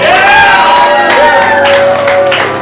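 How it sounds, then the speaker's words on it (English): A crowd at a Spontaneous Broadway improv show cheers and applauds loudly and close by, with whoops and shouts sliding over dense clapping for the full short stretch. "You can wildly applaud for no particular reason"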